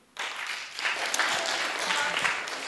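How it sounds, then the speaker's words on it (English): Audience applause at a STEM Day science panel discussion, a dense steady wash of many hands clapping that starts abruptly and carries on loud and unbroken, with no talk over it. "please hold your applause"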